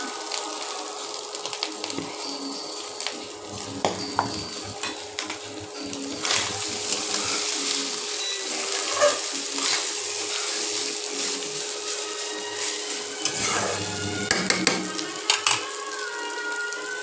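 Rice frying in white oil in a pan, stirred with a utensil: a steady, close sizzling hiss that runs throughout, with scattered scraping clicks from the stirring and no talk.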